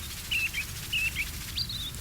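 Birds in the video game Captain Bravoure chirp in short, bright, thin tweets, three or four quick calls over a steady low ambient hum, with no one talking.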